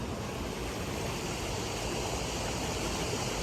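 Water rushes steadily at a waterfall near Ontonagon, Michigan, a dense, loud, unbroken roar of flowing and splashing water that fills the whole moment with no voices.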